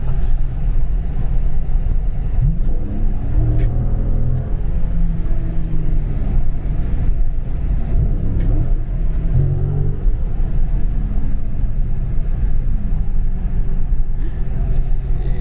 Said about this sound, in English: it's just spinning every time I touch that gas